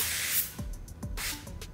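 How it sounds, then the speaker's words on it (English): Two short bursts of cooking spray hiss out close by onto a knife before cutting jackfruit, the second longer, with faint clicks and small knocks between them. "spray your knife down."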